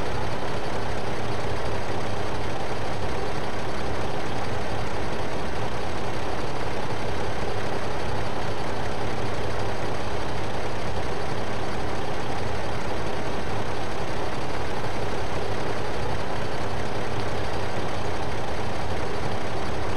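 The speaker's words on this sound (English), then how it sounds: "And then I'll just leave the tractor running, who cares?" A tractor engine idles in Farming Simulator 2015 with a steady, continuous, rumbling drone that stays level for the whole stretch, with no speech over it.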